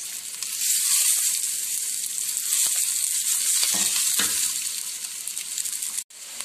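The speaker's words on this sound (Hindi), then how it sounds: "प्याजों को थोड़ा सा नरम कर लेंगे।" Chopped onions sizzle steadily in hot oil in a pan for a restaurant-style masala okra (bhindi), a loud continuous crackling fry with a few stirring scrapes, ending in a brief break.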